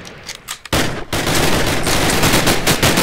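Guns fire in a modded Minecraft game, Jurassic Craft: scattered shots at first, then dense, loud, continuous automatic bursts that rattle on and on.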